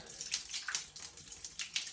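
Warm water running into a bathtub, a continuous splashing hiss with uneven bursts, fairly faint and close, with no talk over it.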